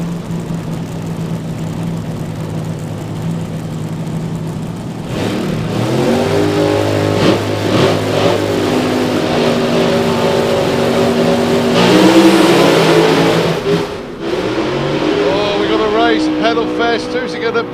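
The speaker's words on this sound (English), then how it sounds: "So, funny car's going to go first. Dragster's going to try and run him down." A funny car and a dragster launch side by side in a drag race, a loud engine roar that swells and holds with a rising whine before dropping off, with a commentator's voice over it.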